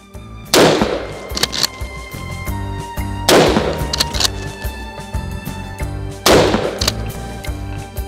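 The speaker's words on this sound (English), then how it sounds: "Now I will change rifle and I will shoot three shots with the shortened barrel, 45 centimeters compared to the 51." Three loud rifle shots spaced about three seconds apart, fired through a shortened 45 cm barrel, each a sharp crack with a ringing tail.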